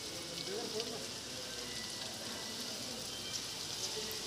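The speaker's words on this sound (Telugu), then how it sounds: "మేము బయటకు వచ్చేసాము, ఫుల్ వర్షం పడుతుంది." Heavy rain falls outdoors during an evening stop for dinner, producing a steady, dense hiss that runs throughout at moderate volume with people talking faintly over it.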